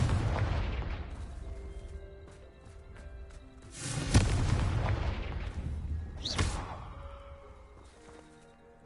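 A Confringo blasting spell going off in Hogwarts Legacy: a few booming, thudding blasts with sharp cracks and bright magical tones, fading out between bursts, with no voices.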